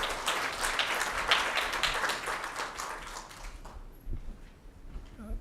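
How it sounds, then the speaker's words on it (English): An audience at a World Malaria Day event breaks into applause as the chair arrives, dense clapping that fades out over a few seconds into a few scattered claps and quiet room noise. "A round of applause as the chair comes"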